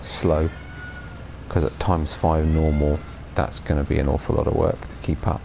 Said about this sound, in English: pardon the noise of the cat